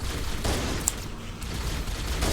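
Gunfire in the Halo video game comes as a dense, continuous rattle of rapid shots under a busy battle din, with a few brief sharper pops standing out, steady and fairly loud throughout.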